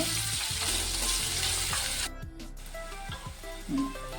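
Sliced onions frying in oil make a continuous close hiss, with scraping stir strokes and a brief pause as the pan is moved, while background music plays softly and no one speaks.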